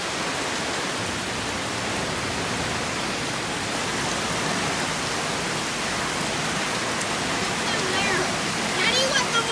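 Heavy rain pours in a steady, dense hiss that fills the whole clip at a constant close level, with a faint brief sound near the end.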